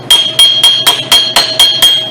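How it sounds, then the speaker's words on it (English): Sharp metallic strikes of a hammer on a chisel chipping rust from a brake part during a 2007-2011 Nissan Versa brake job, eight loud, evenly spaced blows close by with bright ringing tails and no talk. "you hit it with a chip and hammer and there's just big chunks to fly off of here"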